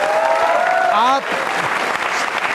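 Studio audience clapping on a Rajasthan quiz show, steady applause running beneath a voice that speaks over it at the start.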